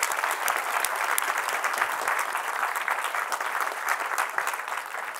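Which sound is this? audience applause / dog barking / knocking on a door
audience applause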